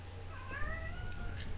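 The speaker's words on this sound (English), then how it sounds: "It's my cat in the background." A house cat meows softly in the background of a room, its faint rising calls sitting over a steady low hum.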